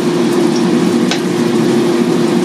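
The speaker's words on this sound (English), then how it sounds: "it's frying and getting ready." A mix for Nigerian fried rice frying in a pan gives a steady, close, dense sizzle with no break, plus one short sharper crackle partway through.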